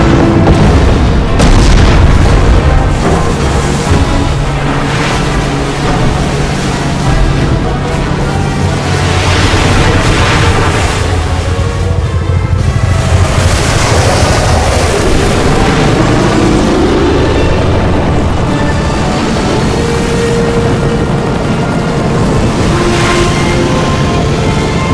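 Movie battle scene of warships firing on a target, heavy booms and explosions rolling continuously over dense dramatic score, loud and sustained throughout.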